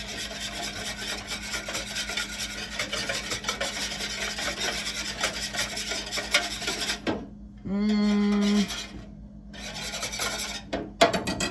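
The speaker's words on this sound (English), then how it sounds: "And then we're gonna start whisking." Seasoning for tofu steak tips is whisked in a bowl, a continuous scraping, rasping rhythm for about seven seconds, then a brief pause and a short burst of other kitchen noise before the scraping resumes.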